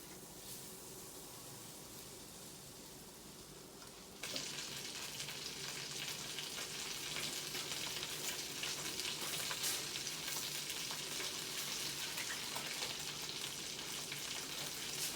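Butter melting and sizzling in a warm Power XL cooker, a soft crackle that jumps sharply louder about four seconds in as the butter hits, then holds a steady, close sizzle.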